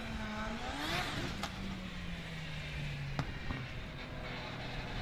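A drift car at the British Drift Championships at Teesside revs to scrub heat into its Zestino tyres, a rising then falling engine note heard at a moderate distance over steady background noise.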